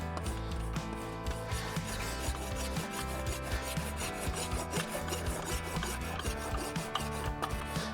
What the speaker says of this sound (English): I'm going to go with the smooth side of the rasp to start, because I don't have much to remove.